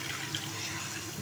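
About one and a half glasses of water poured into a pan of fried mixed vegetables for pulao, a steady rushing splash filling the whole moment.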